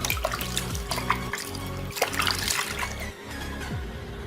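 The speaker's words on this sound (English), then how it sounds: "Now wash your feet with warm water so that there is no dead skin on your feet." Feet being washed with warm water, splashing and trickling close by in uneven bursts as water is scooped and poured, with no talking.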